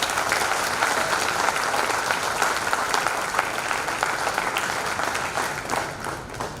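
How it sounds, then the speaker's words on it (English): Sustained audience applause fills a lecture hall at a corporate golden jubilee event, dense steady clapping from a large crowd that holds level before tapering slightly at the end. "let's have a big round of applause for her."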